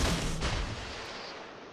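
Warship guns fire aboard the Öland in a naval video game: a couple of heavy booming shots in quick succession up front, then a fading rumble as the blasts die away.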